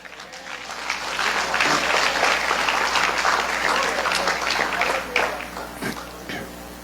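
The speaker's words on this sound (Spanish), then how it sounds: "Dale un aplauso." A congregation at a Spanish-language talk on spiritual leadership claps steadily for about six seconds in a full, even round of applause that tapers off at the end.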